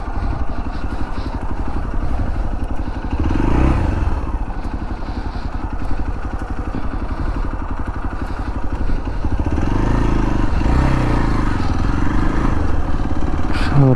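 Motorcycle ridden toward a dam for a weekend outing, its engine droning loudly and steadily throughout with rough mid-range rumble and wind buffeting, a couple of slight surges in revs along the way.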